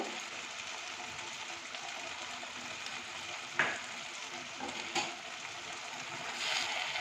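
Mutton curry sizzling steadily in a pot as it is sautéed and stirred, a continuous frying hiss with a few sharper scrapes and clinks of the spoon; no talking.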